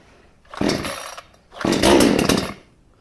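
A Garwinner 62cc chainsaw is pull-started with the choke on: two loud, close, rasping starter-cord pulls, the second longer, each a sputtering gasoline-engine cough that dies away without catching.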